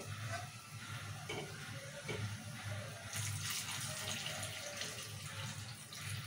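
Water streams steadily into a pan of cooked-down tomato curry, a continuous close pouring wash that lasts several seconds without a break.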